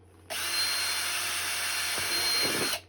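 A power drill starts abruptly and runs at a steady high-pitched whine for over two seconds, then winds down and stops.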